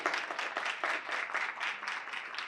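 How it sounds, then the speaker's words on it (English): An audience at a Russell County town hall meeting applauds youngsters with a steady, moderately loud wash of clapping that lasts the whole moment. "Let's give them a round of applause."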